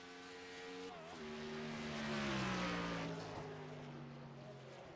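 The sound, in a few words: race car lapping Road America circuit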